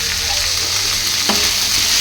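Loud, close sizzle of chopped onion frying in a pan, steady and hissing throughout, with a single faint clink near the end and no voices.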